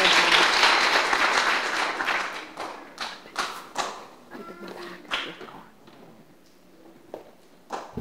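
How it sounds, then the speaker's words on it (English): A crowd at a Cub Scouts Blue and Gold ceremony applauds loudly at first, then the clapping thins into scattered claps and taps that trail off. "So just give these guys a round of applause."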